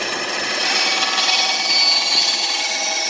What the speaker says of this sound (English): This bandsaw's new. I'm trying to get it dialed in right.